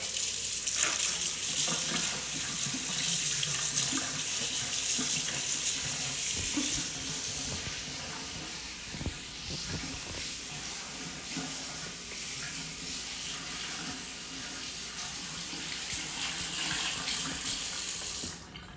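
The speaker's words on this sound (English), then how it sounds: "Just going to rinse off my whisk real quick." A whisk is rinsed under a running kitchen tap, a loud steady rush of water hitting the sink, with the flow shifting slightly as the whisk moves through the stream.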